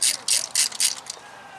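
A ratchet turns a long-shank spark plug socket on a 2008 Honda Civic Hybrid engine, giving about five quick rapid clicking bursts in a rhythmic back-and-forth pattern, close and fairly crisp.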